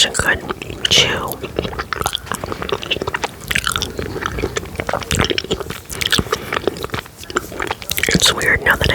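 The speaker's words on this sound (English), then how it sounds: "Because they have such a good chew." Close, wet chewing of soft peach gummy candies, squishy bites and smacking sounds in an irregular rhythm, with occasional whispering between chews.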